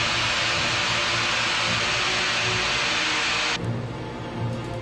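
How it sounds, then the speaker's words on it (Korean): A liquid-propellant rocket engine with heat-resistant baffles fires in a ground combustion test, a loud steady roaring rush that cuts off abruptly near the end, leaving a lower rumble. "드디어 엔진이 불꽃을 터뜨렸다."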